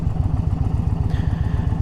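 A motorcycle with a catted exhaust and the dB killer removed runs with a loud, rapid, throbbing engine pulse, close by and steady throughout.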